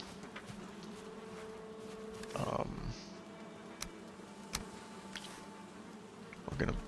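Bees buzz around a beehive in the Valheim video game, a faint continuous insect drone with occasional louder clicks and thumps from the game.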